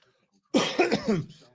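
A single harsh cough with a few rough bursts, close and fairly loud, followed by silence.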